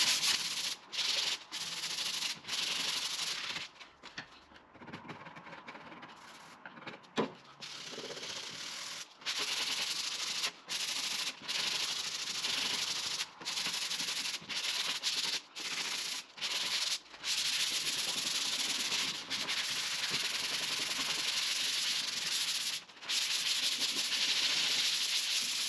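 Body filler is hand-sanded on a rust-repaired Ford Transit van, making a loud, continuous rasping hiss in long back-and-forth strokes broken by brief pauses.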